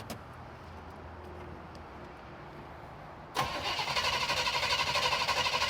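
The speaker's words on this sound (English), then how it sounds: "Okay, now crank it." A barn-found Chevelle engine catches with a sudden loud onset after a quiet stretch, then runs with a rough, steady rhythmic churn to the end.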